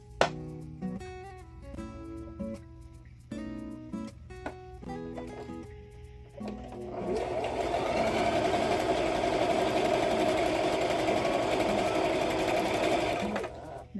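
A small mechanical, non-computerized sewing machine stitches quarter-inch seams on quilt block pieces, first in short stop-start bursts, then in one steady, moderately paced run of whirring needle strokes close by.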